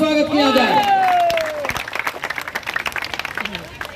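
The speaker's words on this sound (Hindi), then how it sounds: "एक बार जोर से ताली से स्वागत किया जाए" Audience at a Durga Puja fair inauguration on a stage breaks into applause, scattered clapping rising over a speaking voice that fades out, crowd heard from a short distance.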